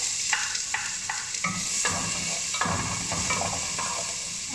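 Whole peppercorns, garlic and onion frying in a pan, a steady loud sizzle with stirring scrapes and a few sharp clacks of the utensil against the pan, no voices.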